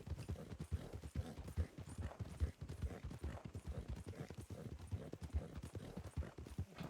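In a video game, a horse's hooves clip-clop in a steady, rhythmic gait that continues throughout, close by and fairly quiet, with no voices.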